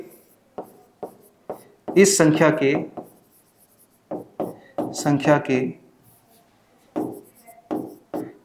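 Chalk or marker writing on a classroom board during a Class 10 maths lesson, short scratchy strokes in bursts that alternate and overlap with a teacher's close speech.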